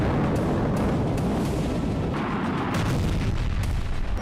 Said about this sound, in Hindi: जिसमें रूस के टैंकों में धमाके और उसके बाद जले हुए टैंकों का मलबा दिखाया गया है